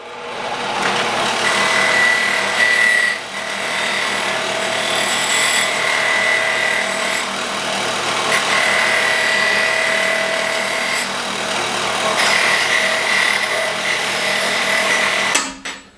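A bench grinder grinds a hand-forged letter opener blade in a continuous, loud, abrasive whine that runs almost unbroken for the full stretch, swelling slightly as the steel is pressed and shifted against the wheel.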